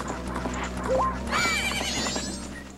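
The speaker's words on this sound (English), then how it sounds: "Good horse." A horse in the Majora's Mask video game whinnies with a rising call, then hoofbeats clop along steadily beneath looping game music, fairly loud and close.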